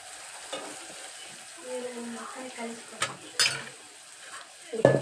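Tempering (oggarane) for North Karnataka-style dal fry sizzles in a hot pan, with a steady frying hiss, stirring scrapes and a few sharp clinks near the end.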